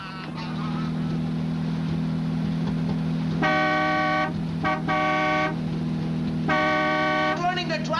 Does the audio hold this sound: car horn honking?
yes